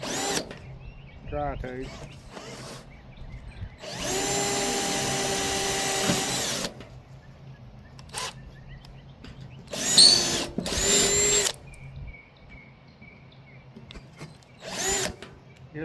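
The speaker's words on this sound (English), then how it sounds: "I'm going to drill out all these spot welds. First with a 1/8 drill bit." A power drill with a 1/8 inch bit bores out spot welds on car sheet metal in a garage, with several loud whining bursts separated by pauses and someone speaking briefly between them.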